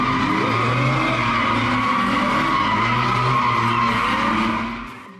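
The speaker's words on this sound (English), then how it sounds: "cars took turns doing donuts in the middle of a busy intersection in Miami at around midnight" Cars spinning donuts at a busy Miami intersection around midnight: continuous loud tire squeal and skidding over revving engines, sustained throughout and fading slightly at the end.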